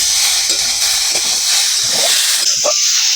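Ginger and cumin paste sizzles in a hot pan while a Bengali fish dish is cooked, a steady loud frying hiss with a few soft stirring knocks and no voices.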